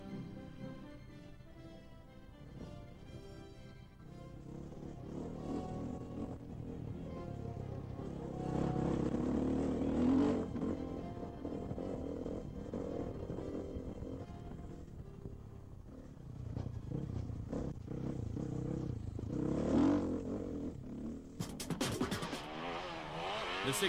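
Enduro motorcycles racing over worn, dusty tracks at the International Six Days, engines revving and droning continuously as bikes pass, swelling and fading with a burst near the end.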